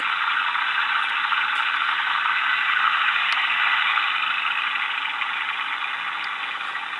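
A Honda 125 motorcycle engine runs at a steady idle, producing an even, continuous hum at moderate loudness with no speech.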